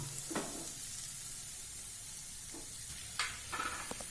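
Boiled egg pieces are sautéed gently with capsicum masala in a pan, giving a steady moderate sizzle broken by a few brief spatula scrapes and stirs, with no talking.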